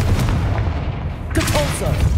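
Confringo explosive spell cast in Hogwarts Legacy, a deep booming blast sustained under a dense, loud game soundscape, with a brighter crackling burst near the end; a voice calls out over it.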